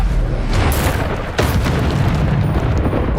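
A Bombarda spell explodes in a wizard video game, a loud booming blast that rumbles continuously, with a sharp fresh burst partway through.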